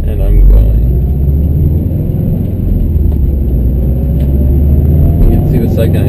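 A 2013 Subaru WRX STI pulls away from a city stop in first gear, a loud, steady low engine rumble heard from inside the car, with someone talking over it.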